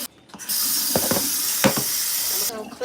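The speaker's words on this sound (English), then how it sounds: "I always just like to rinse it out to get all that blood out of it" Tap water rushes into a plastic bag in a sink in a steady hissing spray, with a few crinkles and knocks and brief talk underneath.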